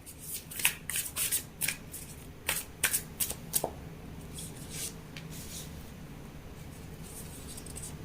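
Tarot cards being shuffled and drawn by hand, close-up crisp riffling bursts in quick clusters during the first half, then fading to quiet soft handling.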